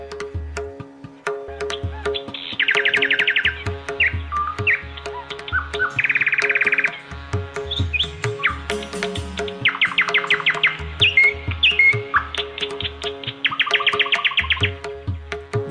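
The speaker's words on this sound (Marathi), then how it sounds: "संपूर्ण वातावरणामध्ये पक्ष्यांची अशी किलबिल असते." Lively birdsong fills the air, with repeated chirps, tweets and trilled bursts layered over a steady background of other tones, continuing throughout at moderate loudness.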